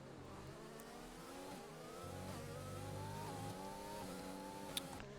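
F1 race cars roar around the Belgian Grand Prix circuit in the F1 2020 video game, with a continuous, loud engine whine that climbs steadily in pitch as the cars accelerate. A brief sharp tick comes near the end.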